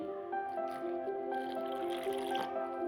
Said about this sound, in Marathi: त्याच्यामध्ये घालूया पाणी.